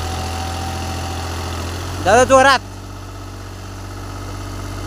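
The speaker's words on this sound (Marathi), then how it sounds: "तर ट्रॅक्टर आपला निघतोय आज बाहेर" A tractor engine idles with a steady low mechanical hum as it sets off, and a voice briefly calls out over it partway through.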